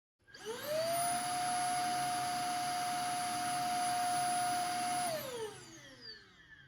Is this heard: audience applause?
no